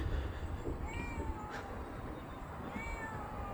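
A cat meows a few times outdoors at night in a quiet Japanese village, faint mid-distance calls over steady background hiss with no talking.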